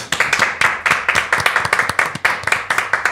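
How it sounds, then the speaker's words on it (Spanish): A small audience claps for a guest arriving on a taekwondo podcast set, the hand claps crisp and close, uneven and individually audible rather than a dense roar, holding a fairly steady rhythm throughout. "Vamos a darle un aplauso al gran maestro Pini."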